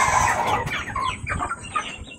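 A rooster clucks and calls in a few short, throaty bursts, close by on a farm, with faint background noise.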